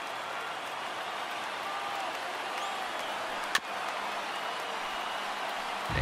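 A steady, distant stadium crowd murmurs through a baseball game in MLB The Show 19, with a single sharp knock partway through and no clear cheering.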